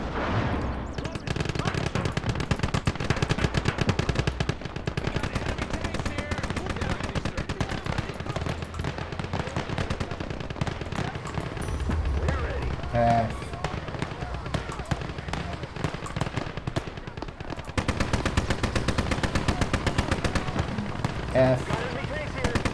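Dense, continuous gunfire and explosions from a big gun in the WWII game Gates of Hell, rapid bursts and heavy booms running throughout with a player talking over the battle.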